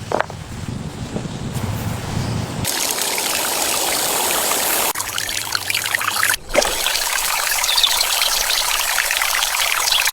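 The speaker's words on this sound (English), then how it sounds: "Transforming old tractor tires into beautiful tiered garden water fountains." Water trickles and splashes steadily down a tiered garden fountain built from old tractor tires, a close, continuous pouring wash that shifts in texture as the view changes, with no voices.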